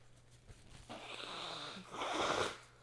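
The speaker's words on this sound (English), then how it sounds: "Let me blow my nose." Two breathy, rushing bursts of air up close, a longer blow followed by a stronger one, like someone clearing their nose into a tissue.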